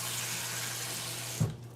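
Tap water runs steadily into a pot for cornmeal porridge, a close, even hiss that ends abruptly with a small knock as the flow is cut off.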